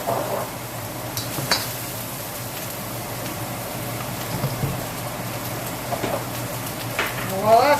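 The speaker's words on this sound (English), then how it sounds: "So first thing that's going to go in, it was that mix that we had of the pepper, garlic, and lemongrass. Oh yeah, listen to that sizzle." A mix of pepper, garlic and lemongrass sizzles in a pan for a squirrel stew, giving a steady, moderately loud crackle with scattered sharper pops.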